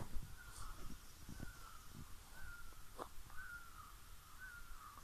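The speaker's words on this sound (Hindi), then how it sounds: "परिंदों का शोर" Birds call at a hillside resort in Thandiani, Abbottabad, Pakistan, with several crow-like caws and chirps repeating at a moderate distance over a soft outdoor background.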